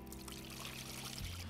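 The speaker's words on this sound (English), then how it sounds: "And now we are going to add the water." Water is poured faintly and steadily into a container for pigeons during winter loft care, a soft trickling stream with no talk.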